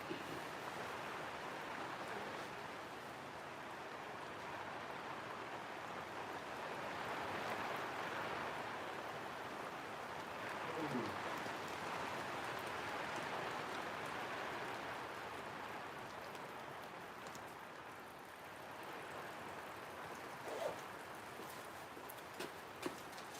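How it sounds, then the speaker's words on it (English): Steady, soft rain hisses evenly throughout, a continuous wash of drops with no talking and only a couple of faint knocks. "Yep, definitely raining pretty good."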